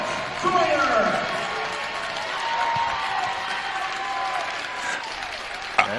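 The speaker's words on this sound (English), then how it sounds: "please give a round of applause for the East Jessamine great" A crowd in a high school gym at a basketball game between Frankfort and East Jessamine applauds a former player, steady clapping and cheering filling the hall with voices over it and a sharp bang near the end.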